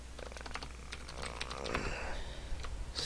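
Rapid computer keyboard typing, a close stream of light key clicks against a low steady hum.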